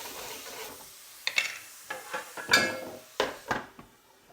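One large chicken breast browns in a pan, giving a faint sizzle with intermittent scraping and stirring scrapes of a utensil against the pan, several uneven strokes over low background noise, with no talking.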